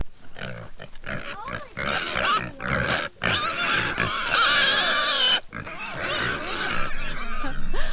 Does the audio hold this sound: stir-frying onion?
no